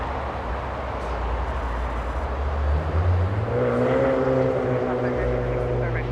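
An Airbus A340 departing at LAX, a loud continuous jet roar with rising engine tones building midway, heard at a distance alongside airport background noise.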